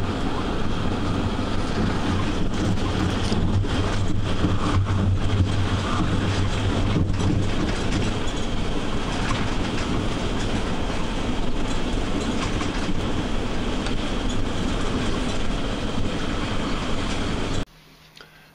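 A continuous, loud interior rumble while riding a passenger train home, steady wheel and carriage noise with faint rhythmic clatter carrying on for the whole stretch before it cuts out abruptly at the end.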